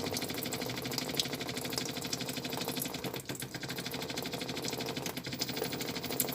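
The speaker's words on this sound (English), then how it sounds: "I'm using paraffin and a spare petrol pump I had somewhere and a battery" A spare petrol pump wired to a battery buzzes steadily while flushing paraffin through a Jaguar XK140 part, a fast, even mechanical chatter with faint liquid gurgle throughout.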